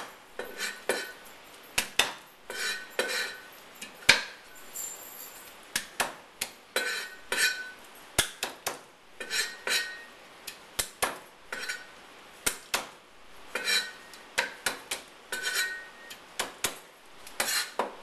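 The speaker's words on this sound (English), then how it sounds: "So what I do is I smash each one of the shrimp down." Ten raw shrimp smashed flat one at a time with the side of a cleaver, giving a long irregular run of sharp slaps and clacks on a cutting board, close and loud, with brief pauses between strikes.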